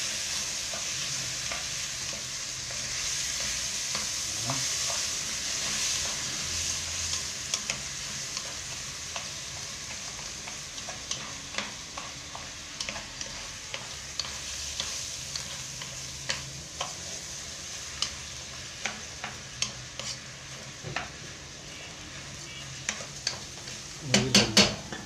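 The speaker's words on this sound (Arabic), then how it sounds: "شغالين نقلب" Rice with vermicelli being stirred in a pot, a long low sizzle under repeated spoon scrapes and light taps that grow more frequent and sharper toward the end, without speech.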